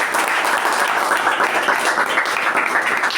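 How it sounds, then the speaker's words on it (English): Members at a Toastmasters club meeting give a loud, steady round of applause, a dense wash of clapping that continues without letting up. "A huge round of applause for it."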